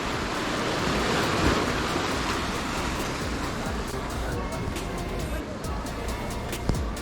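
Surf washing ashore at Hellshire Beach in Portmore, Jamaica: a steady broadband roar of waves with wind and faint traffic-like noise, continuous and fairly loud, with occasional brief clicks.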